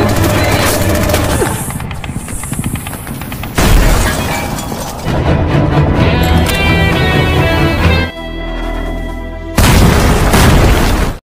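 A thrown bomb bursts in mid-air in a battle between American and Chinese troops, a loud, dense run of booms and blasts over a rumbling, continuous war-film soundtrack.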